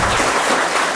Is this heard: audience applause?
yes